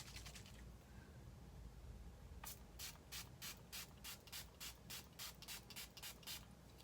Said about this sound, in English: Just gotta spray this